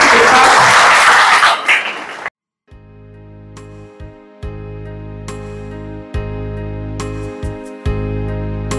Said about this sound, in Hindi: आप सभी लोगों की गरिमामय उपस्थिति के साथ इसका शुभारंभ कर रहे हैं, जोरदार तालियां सभी के साथ।